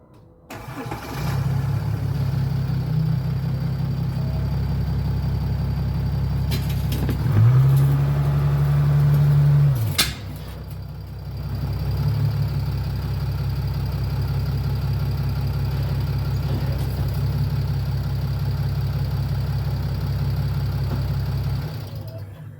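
A 2005–2007 Chrysler 300C CRD diesel starts and idles with a steady low rumble, briefly revving as it is driven up onto ramps, then settles back to idle, close and loud.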